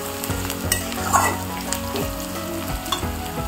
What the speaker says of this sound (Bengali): এখানে দেখুন পেঁয়াজ ভাজা হচ্ছে